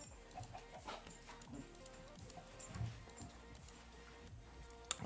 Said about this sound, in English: let's go and get ourselves the noises that come out of these dogs sometimes